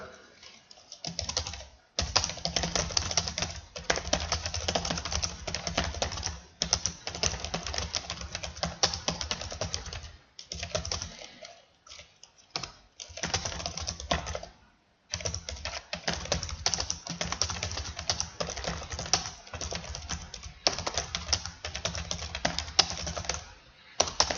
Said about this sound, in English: Next, I'm going to type in the content of my letter.